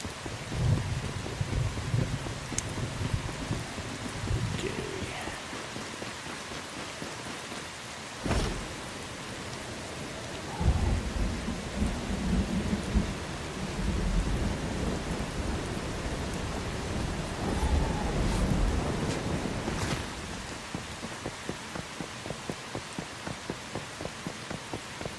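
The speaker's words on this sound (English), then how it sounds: "Lovely bit of rain, lovely." Rain and thunder in the video game Once Human: steady rainfall hissing on surfaces with low rumbles of thunder rolling in and out at moderate distance, no voices.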